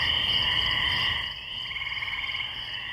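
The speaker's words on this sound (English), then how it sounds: "we're going to get like a creepy cricket loop" A creepy forest ambience loop carries a steady chorus of insect or frog-like trilling, a dense pulsing chirr that dips briefly in the middle before resuming, with no voices.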